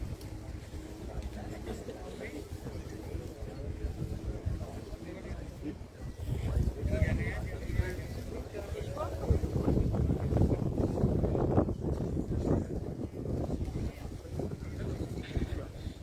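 Outdoor wind at a car rally in Neufchâtel-en-Bray on a sunny April morning, a steady rushing roar buffeting the microphone with low rumbling gusts that swell midway, while a voice talks faintly underneath.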